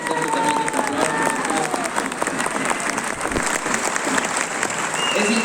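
Steady applause from the audience at a political campaign speech for a Quito mayoral candidate, dense clapping filling the whole stretch with crowd noise, loud and continuous.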